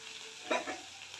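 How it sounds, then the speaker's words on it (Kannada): Curry leaves dropped into a hot pan while making street-style egg rice give a brief, close sizzle and stir lasting about half a second, then settle into a faint background hiss. "ಅದಕ್ಕೆ ಕರ್ಬೇವಿನ ಸೊಪ್ಪು ಹಾಕ್ಕೊಳ್ಳೋಣ."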